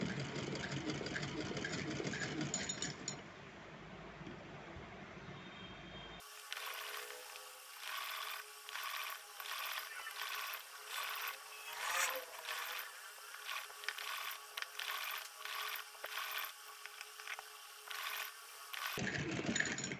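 A sewing machine stitches net fabric for a small deity dress, its rapid rhythmic mechanical whirring running steadily for about thirteen seconds, with quieter sounds before and after.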